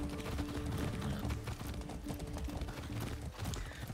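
Galloping horse hooves in Far Cry 6, a dense, fast pounding rhythm under a steady low rumble, close and continuous for a few seconds.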